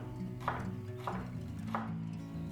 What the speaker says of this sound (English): Then also cutting up some onions.